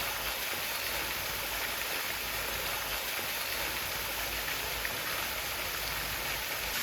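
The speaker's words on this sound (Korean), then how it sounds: "몇 걸음 올라가면 방금 전보다 규모가 큰 폭포가 하나 더 있어요." A waterfall in a Korean garden valley roars steadily, a dense, even rush of falling water close by with no voices over it.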